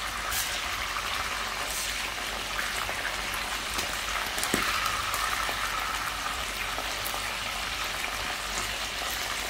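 Salted fish (makayabu) fries in an uncovered pan with a dense, steady, rain-like sizzle. It is turned partway through with a brief clack and a swell of spitting. No one speaks.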